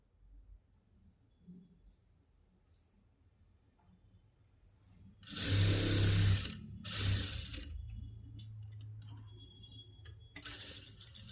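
A sewing machine runs in two short bursts of stitching on a princess cut blouse with a boat neck, loud and close, with quiet clicks and handling between the runs and another short burst at the end.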